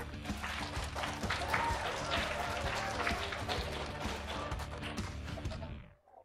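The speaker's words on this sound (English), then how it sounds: "Give her an applause, please." Audience clapping for a certificate winner at an English Week event, a dense sustained round of applause that holds steady for several seconds and then quickly dies away at the end.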